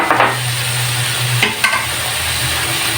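Pork and vegetables sautéing in a pan, a loud, close, continuous sizzle with a couple of brief stirring scrapes partway through, with no talking.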